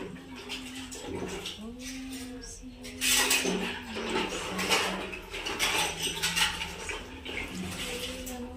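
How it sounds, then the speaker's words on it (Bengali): Milk poured over a Shiva idol during ritual bathing on Shiva Chaturdashi, heard as a splashing, trickling stream with clinks of metal vessels. Voices murmur and hum underneath throughout. "আমি দুধটা ঢেলে দিয়েছি"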